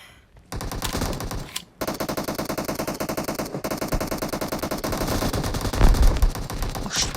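Rapid automatic gunfire from the video game PUBG rattles in loud, dense bursts almost without pause, with a heavier boom near the end.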